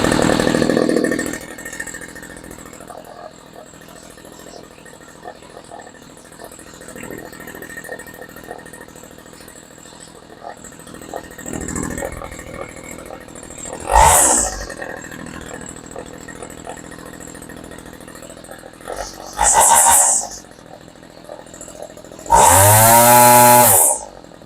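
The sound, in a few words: Homelite string trimmer engine idling and running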